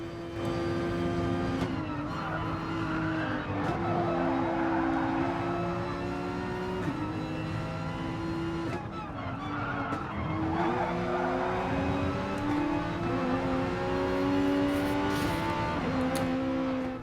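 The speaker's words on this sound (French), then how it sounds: "peut-être qu'on peut écouter ce flat 6 comme tu nous le montres." Porsche flat-six race car engine in a Brands Hatch esports racing game, a loud continuous engine note rising and falling through gear shifts, with tire squeal and other cars running alongside throughout.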